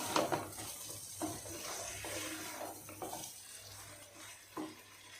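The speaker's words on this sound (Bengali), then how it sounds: "এখানে 6টা বেগুন দিয়েছি, মাংসের সাথে মিক্স করে নিব।" Six eggplants are stirred into chicken curry in a pot: quiet scraping and clinking of a spoon against metal over a faint sizzle, with a few sharper knocks.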